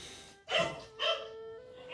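An indoor dog gives two short, sharp barks about half a second apart, greeting someone arriving at home. The barks are moderately close and stand alone without talk.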